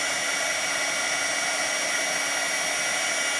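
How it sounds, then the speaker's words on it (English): Heat embossing tool blowing hot air to melt gold embossing powder on a card, a steady airy whoosh with a constant high whine, held evenly throughout with no talking. "melt this with my heat tool. I'm going to give that a couple of seconds to heat up. And now we'll just melt that embossing powder."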